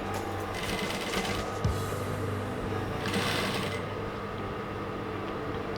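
A sewing machine top stitches a child's native trouser, humming and whirring steadily and close by, with the motor swelling in brief faster runs and one small clunk.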